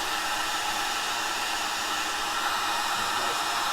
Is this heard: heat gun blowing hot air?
yes